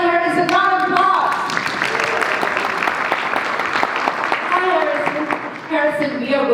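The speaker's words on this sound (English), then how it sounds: "round of applause!" Audience applause for a performer at a live show, a dense sustained clapping crowd filling the room for several seconds, with a few voices mixed in and the clapping thinning near the end.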